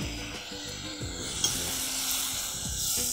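Fresh tomatoes hit a hot pan of duck cooking with onion and rosemary, giving a steady loud sizzle with bursts of stirring and a brief clatter partway through.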